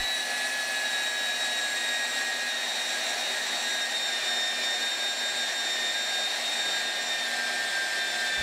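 A Hougen HMD115 magnetic drill press runs as its cutter starts into the material, giving a steady, high-pitched motor whine with a constant hiss beneath it, loud and unbroken throughout.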